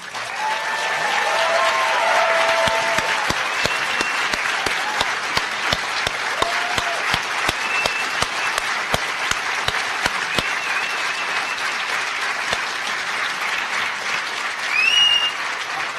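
A large audience gives sustained applause for a speaker at a conference, a loud, even wash of clapping that holds for the whole stretch, with a few cheers in the first seconds and sharp individual claps standing out.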